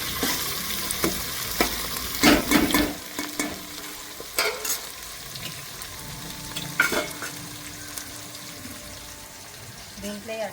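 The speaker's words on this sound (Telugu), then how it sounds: "గోల్డెన్ కలర్ వచ్చేంత వరకు ఫ్రై చేసుకోవాలి ఉల్లిగడ్డ" Onions for prawn biryani fry in a pan until golden, giving a steady low sizzle broken by repeated spoon scrapes and stirring clatter up close.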